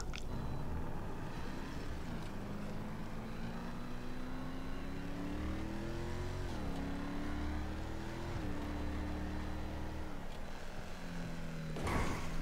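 A 1990 Honda NSX drives in GTA Online, its engine droning steadily with rising and falling revs and gear-shift dips, then a brief noisy burst near the end.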